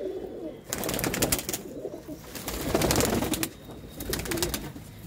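Pigeons at a bird sale in Ludhiana coo repeatedly with a soft, throaty rolling sound, overlapping in steady bursts against a busy background of chirps and rustling.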